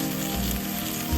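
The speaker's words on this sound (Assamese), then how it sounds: "দি এতিয়া মই পালেংখিনি লৈ কৰি কি কৰিম, বস্তুখিনি লৰাই কম জুইত ভাজি ল'ম।" Spinach frying in a pan over a low flame, a close, continuous sizzle with faint stirring scrapes.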